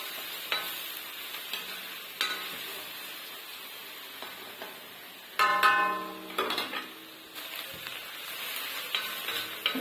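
Onions frying in a pan until golden for a dhaba-style chicken gravy, a soft continuous sizzle punctuated by intermittent spatula clicks and scrapes, with a louder cluster of stirring knocks midway, close and fairly quiet.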